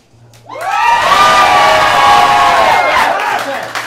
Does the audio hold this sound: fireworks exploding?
no